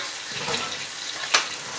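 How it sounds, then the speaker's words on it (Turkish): Eggplants fry in oil in a pan for stuffed eggplant, giving a faint, steady sizzle with a single brief clink near the end. "Patlıcanlarımı da iyice kızartıyorum."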